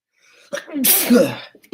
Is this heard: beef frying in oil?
no